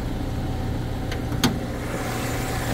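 A 1990 Toyota Corolla Twincam SE Limited engine running at a quiet, steady idle, a soft low hum with a couple of brief sharp clicks near the middle and no talking.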